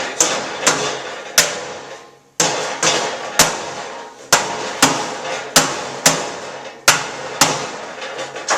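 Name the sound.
rubber mallet smacking a neck rake part into place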